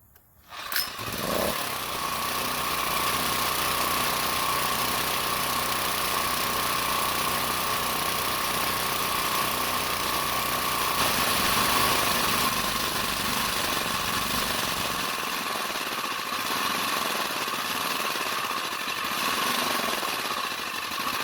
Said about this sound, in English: the last thing is to run the generator dry after closing the fuel valve